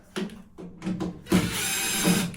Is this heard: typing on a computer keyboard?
no